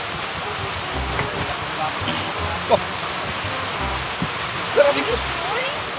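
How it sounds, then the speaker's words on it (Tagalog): Strong rushing water pours in a steady broadband roar, close and continuous, with a brief exclamation and faint voices over it. "Ang lakas ng tubig mga katsuyans."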